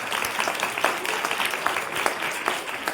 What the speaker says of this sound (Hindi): बच्चे तालियां बजा के बता सकते हैं